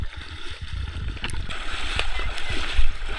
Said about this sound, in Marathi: होडी फुल स्पीडला झाली बघा